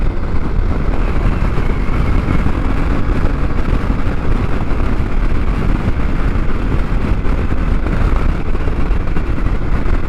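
Riding a 2024 Yamaha Tenere 700 motorcycle: a steady, loud engine drone with heavy wind buffeting across the microphone throughout, no voices.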